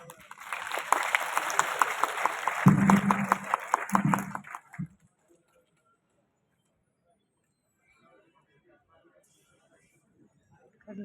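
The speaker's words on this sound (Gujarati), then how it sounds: "હું સન્માન કરું તો તાળીઓના ગડગડાટથી વધાવી દેશો" An audience at a two-wheeler mechanics' association event in Porbandar claps for about five seconds, a dense burst of applause with a few louder claps, then it cuts to near silence.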